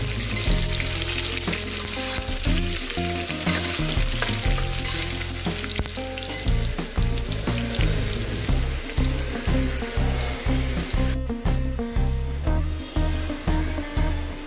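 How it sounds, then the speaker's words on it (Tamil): Garlic frying in oil in a pan, loud steady sizzling with rhythmic scraping and stirring strokes repeating throughout, close and continuous, no voices. "அடுத்து பூண்டு, நல்லா வதக்கிக்கோங்க."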